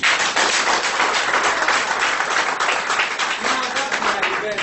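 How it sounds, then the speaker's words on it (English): An audience claps together at a women entrepreneurs' event in Bamenda, a dense, loud, sustained wash of applause that fills the whole stretch. "Let's clap for ourselves for this program again"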